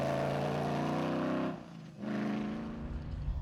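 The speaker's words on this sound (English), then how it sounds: "Their car may sound worse for wear" A rally car engine at a cross-country rally idles with a rough, uneven drone, briefly dipping quieter before picking back up.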